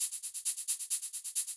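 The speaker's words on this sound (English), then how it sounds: "We have like a shaker." Electronic shaker in an ambient techno percussion part, ticking out a steady, even rhythm of soft bright noise bursts with gently varying accents, alone and fairly quiet.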